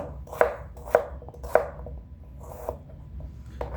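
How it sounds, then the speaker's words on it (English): A knife chops cucumbers and tomatoes for a cucumber tomato salad: three sharp, evenly spaced chops on a cutting board, then two softer, more scattered cuts, close up with no talking. "chop them up into pieces for the salad"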